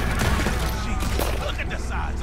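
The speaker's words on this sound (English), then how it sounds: "Blast every single bullet into that shit." Rapid gunfire blasts from a Red Dead Redemption bank robbery shootout in Saint Denis, loud, dense bursts of shots with someone talking over them.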